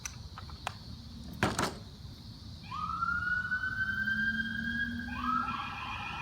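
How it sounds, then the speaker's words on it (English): An ambulance siren wails at a distance, its steady tone holding and slowly shifting as it passes overhead, with a few clicks and handling noises before it. "We got an ambulance coming over the top of our head right now."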